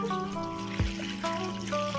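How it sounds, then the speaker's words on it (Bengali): Ber (jujube) fruits are washed with water, a soft continuous trickle and slosh with one brief heavier splash, heard over a faint tonal background hum. "প্রথমে আমি জল দিয়ে ধুয়ে নেব"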